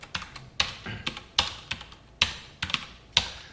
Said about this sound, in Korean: 컨트롤 눌러서 크리에이트 하신 다음에